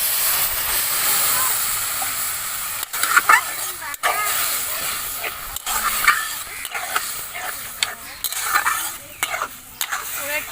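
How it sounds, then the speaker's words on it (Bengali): Water hitting hot ghee-fried semolina in a pan, giving a continuous hiss and sizzle with scraping stirring strokes, recurring sharp clatters and a voice talking over the cooking. "তারপর আমি জল দিয়ে দেব"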